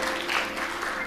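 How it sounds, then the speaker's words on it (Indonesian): Wedding guests at a church blessing ceremony applaud, a dense, steady wash of clapping that fills the whole moment with no gaps. "tepuk tangan untuk anak kita yang luar biasa"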